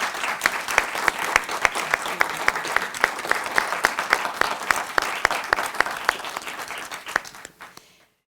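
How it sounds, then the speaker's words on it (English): An audience applauds Professor Soebur Razzaque at the University of Johannesburg after a talk on neutrino astronomy, sustained dense clapping with sharp individual claps standing out, fading away near the end. "Ladies and gentlemen, a round of applause"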